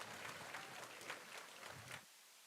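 An audience at a city's State of the City address applauds briefly, a soft, even patter of many hands heard from a distance that cuts off abruptly after about two seconds.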